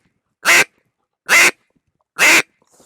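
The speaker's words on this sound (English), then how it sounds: "This is a basic quack." Three loud, evenly spaced basic hen quacks from a duck call, each a short nasal blast separated by about a second of silence.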